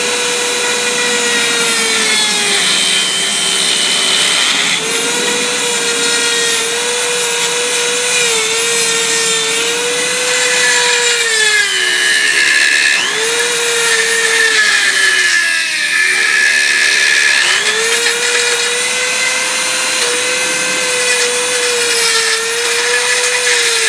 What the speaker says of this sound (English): Use a Dremel with a this diamond wheel.